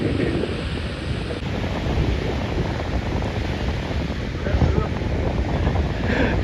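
Wind roars across the microphone at a seashore while waves wash in underneath, a steady broadband rush with faint voices mixed in.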